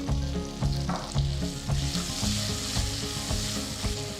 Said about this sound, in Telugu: నెయ్యిలో తాలింపు వేస్తే